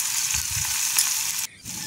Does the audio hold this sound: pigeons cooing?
no